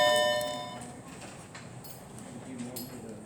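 A school bell rings during a math class, a bright ringing tone that starts loud and fades within the first second, leaving low classroom room noise behind.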